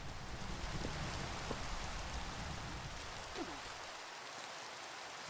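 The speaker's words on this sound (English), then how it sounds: "It be storming." Steady rain hiss from a Java Edition Minecraft thunderstorm, dense and constant, with faint scattered taps and no clear thunder crack.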